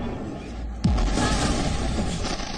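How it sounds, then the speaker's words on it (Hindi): An explosion in Kyiv during the Russia-Ukraine conflict, a single sudden loud boom that breaks through steady background noise, followed by a sustained rumbling roar. "एक धमाका"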